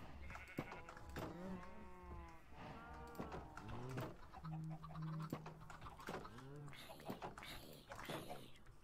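Minecraft sheep bleat repeatedly, several wavering calls overlapping one another, with sharp clicks scattered between them.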